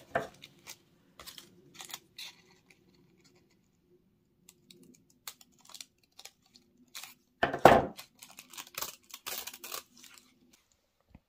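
Paper snips trim gold tissue paper along an edge at a craft table, giving quiet scattered cutting and crinkling noises, with a louder burst of snipping and rustling near the end.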